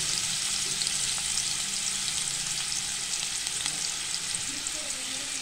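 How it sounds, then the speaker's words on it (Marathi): Chopped onion with two bay leaves sizzling in hot oil in a pot on a gas stove for chicken keema, a steady dense crackle of frying with faint stirring clicks throughout. "कांदा आपण भाजून घेणार आहे चांगला।"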